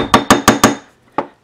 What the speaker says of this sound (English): hammer both sides and only hammer the bits that you don't want to continue twisting